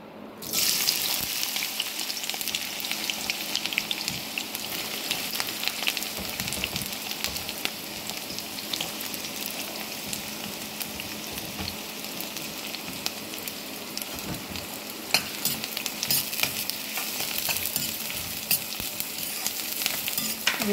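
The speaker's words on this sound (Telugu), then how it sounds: "ఇప్పుడు ఈ ఆయిల్ వేడకంగానే నేను పచ్చిమిర్చి ఉల్లిగడ్డలు ఇవి వేసేసుకుంటున్నాను" Green chillies and onions tossed into hot oil in a kadai, an abrupt onset into a dense, continuous crackling sizzle that holds steady for a long stretch, with occasional stirring knocks.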